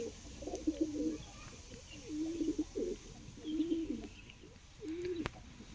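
A pigeon coos nearby in several soft, rounded, rolling phrases separated by short pauses, with no one talking.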